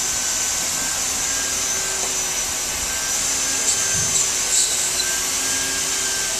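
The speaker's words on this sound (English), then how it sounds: "I'm blowing air through this side. That's going to heat the plastic on the bottom" A hot air plastic welder fitted with a speed welding tip blows a steady, continuous rush of air with an even, unbroken hiss throughout, alone with no talking.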